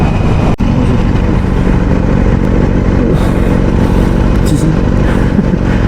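Motorcycle with a cheap aftermarket exhaust, loud and close, running with a constant rough roar and a brief dip near the start.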